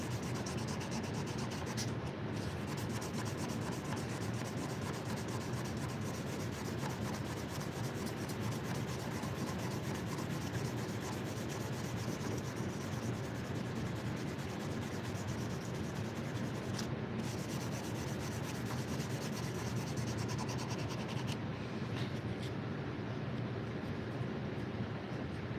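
A knife blade is worked steadily across a 2,000 grit whetstone, giving a continuous close gritty rubbing and scraping with even strokes that run throughout.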